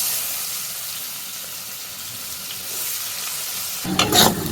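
Chopped onions drop into hot oil with a bay leaf for a home-style egg pepper fry. A faint background hiss gives way to a sudden loud sizzle and crackle near the end.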